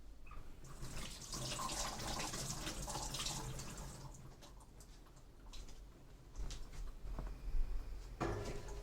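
Liquid, the spring water from a can of tuna, pours out into a sink in a steady trickling splash, close and fairly quiet, with a brief clatter near the end.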